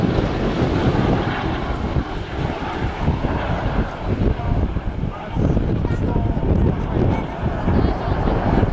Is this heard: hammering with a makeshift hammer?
no